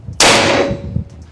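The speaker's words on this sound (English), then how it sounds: "This is a very violent air rifle." A single very loud, violent crack from an AEA Zeus .72 caliber big-bore air rifle, close by, with a bright metallic ring decaying over about a second.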